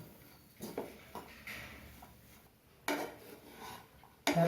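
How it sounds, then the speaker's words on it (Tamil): A spoon scrapes and clinks against a pan while jackfruit seed masala is stirred, giving faint scraping and tapping with a few louder knocks spaced out over a quiet background. "மசாலா கலக்கிற வரைக்கும் நல்லா பெரட்டி விட்டு கிண்டணும்"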